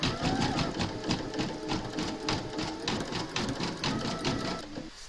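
An embroidery machine stitches round five of a large appliqué design of Mrs Claus in a hoop, its needle running in a steady, fast, even rhythm with a mechanical whir throughout.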